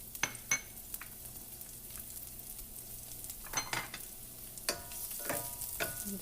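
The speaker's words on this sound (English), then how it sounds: "So now I will saute the garlic" Garlic sautéing in the same oil used earlier to fry dried fish, a soft steady sizzle broken by several sharp clinks and scrapes of a utensil against the pan.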